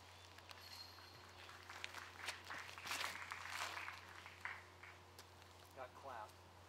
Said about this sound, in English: Got clapped.